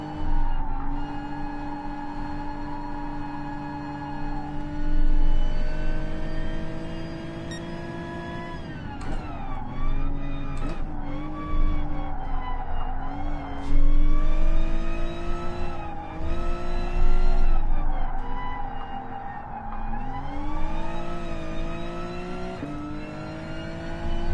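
Gr.3 class race car engine in GT Sport driven at Willow Springs, revving loudly and continuously with rising and falling pitch through gear changes and corners, close and dominant throughout.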